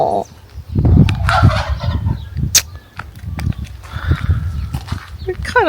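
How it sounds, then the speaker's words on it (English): A turkey gobbles repeatedly on a farm alongside chickens, with loud, rough, burbling calls coming close together over a busy outdoor background while people talk nearby. "Oh, poor old turkey."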